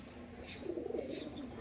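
Soft low cooing from Madrasi pigeons being handled for inspection, faint and brief, with a slight muffled rustle underneath.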